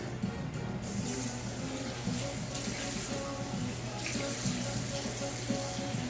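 Tap water runs steadily into a bowl in a kitchen while fried catfish and cabbage are being prepared, a continuous close splashing flow that starts abruptly and keeps going, with faint sounds behind it.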